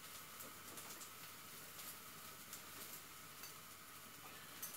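Onion frying in a pan gives a faint, steady sizzle that holds evenly throughout with no voices.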